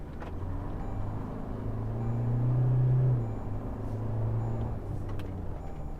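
A 2024 Toyota Revo pickup drives along with a low engine rumble that swells as it accelerates, then eases off and builds again, heard steadily from inside the cab.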